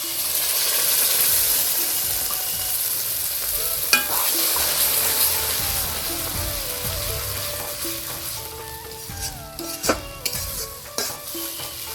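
Ash gourd paste, mixed with turmeric for a fish dish, goes into a hot pan and fries with a loud hissing sizzle that slowly settles, while a spatula scrapes and clacks in bursts near the end.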